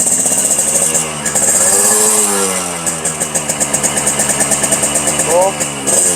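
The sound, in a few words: two-stroke motorcycle engine running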